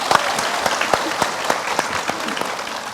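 An audience at an Islamic religious talk gives a short burst of applause, a steady patter of many hands clapping at close to moderate distance, with no voices over it.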